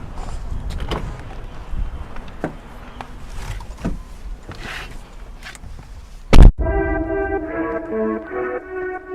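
The motorized roof of a Porsche 911 Targa 4 GTS moves, with scattered clicks and mechanical knocks, a sharp loud clunk, then a steady whirring electric motor hum close by.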